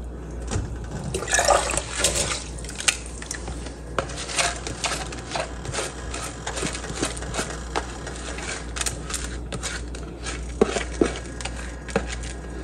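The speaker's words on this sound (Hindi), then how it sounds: "हमारा पानी बॉयल हो रहा है तो इसमें हम चावल डाल देंगे।" Soaked rice pours into a pot of boiling water for sweet jaggery rice, giving a close, continuous bubbling and splashing with scattered sharper clicks and rattles throughout.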